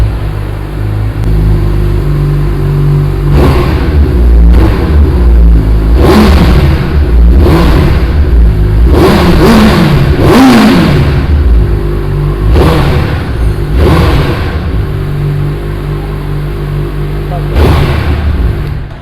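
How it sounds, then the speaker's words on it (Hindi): A 2021 Suzuki Hayabusa motorcycle with its stock exhaust, idling loudly and being revved in repeated sharp bursts of throttle, close to the microphone and heard alone without talk. "चलो पहले एक बार ये एग्जॉस्ट सुनते हैं।"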